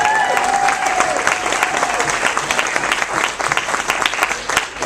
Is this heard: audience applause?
yes